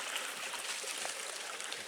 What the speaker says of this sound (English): this little stream here is going to feed the No Business Creek area